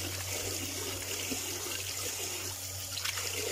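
Water runs steadily from a tap as fish are washed in a sink, a close, continuous splashing trickle over a low hum, with no talk.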